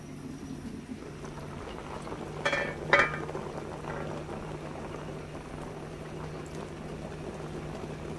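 Water boils in a pot for suman, making a soft continuous bubbling and simmering with a low hum, a few brief clinks and knocks partway through, fairly quiet and without talk.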